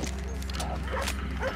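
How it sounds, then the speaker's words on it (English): Several dogs bark and yip in a Red Dead Redemption 2 chase, steady and fairly close, mixed with hoofbeats and game voices. "I'll keep these dogs at bay."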